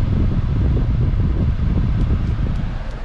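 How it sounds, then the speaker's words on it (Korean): A car's air conditioner blows steadily after being switched on, a continuous whooshing fan rush that eases slightly at the end. "한번 에어컨 상태 한번 틀어보도록 할게요."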